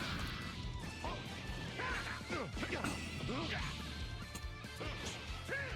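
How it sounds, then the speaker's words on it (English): Heavy punch and kick impacts from the Dragon Ball Sparking Zero fighting game, a rapid run of loud crashing thwacks, energy whooshes and blasts layered together, with a person talking over the game action. "Every punch, even the light jabs, and every kick, everything sounds like it hurts."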